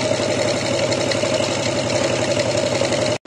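A Honda EX5 Dream motorcycle engine fitted with a Class 1 oil pump runs steadily at idle, a close, continuous mid-pitched putter with even rhythmic pulses, cutting off abruptly at the end.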